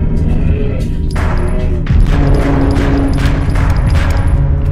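Rapid gunfire bursts from the horror shooter Deppart Prototype crackle loudly in quick repeated volleys, dense and continuous with booming impacts under the shots.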